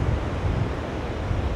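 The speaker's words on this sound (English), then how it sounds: "that surf is building a bit and the wind is picking up a bit" Surf rolling onto a beach at Benone with steady wind buffeting the microphone, a continuous low roar of waves and gusts, close and fairly loud, with no voices.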